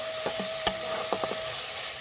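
Spices and chili powder sizzle in hot oil while being sautéed for a Bengali hilsa curry, a steady frying hiss broken by a few sharp scrapes and clinks of a spoon against the pan.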